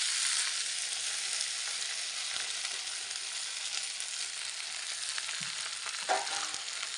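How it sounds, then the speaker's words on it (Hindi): Nar being dry-roasted in a pan with cumin and crushed coriander for Uttarakhand village cooking, a steady close sizzle with faint stirring scrapes and a brief clatter near the end. "नार को हम पहले भून लेते हैं।"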